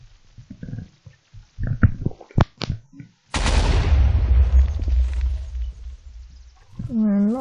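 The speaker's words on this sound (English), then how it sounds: "So, fire dynamite." Fire dynamite from a Minecraft TNT mod detonates as a sudden loud broadband blast, followed by a long rumbling roar of several seconds that slowly thins out. A short tonal whine rises at the very end.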